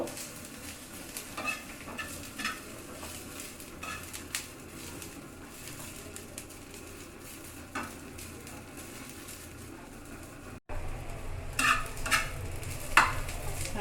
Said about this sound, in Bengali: পেঁয়াজ আর রসুনটা খুব ভালোভাবে ভেজে নিব